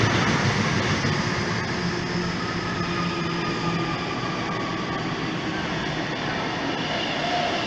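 An electric passenger train rumbles past close by at Macdonaldtown, Sydney, a steady broad roar with rail noise that holds at the same loudness throughout, with no one talking.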